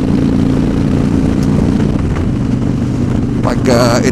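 A 2013 Victory Hammer motorcycle engine downshifting, heard as a loud, steady low rumble that swells slightly near the end, with someone talking over it.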